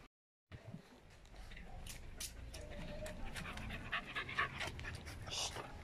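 A four-month-old Belgian Malinois puppy pants steadily and close by, with fast broken breaths, some light rustling and a faint whimper running through them.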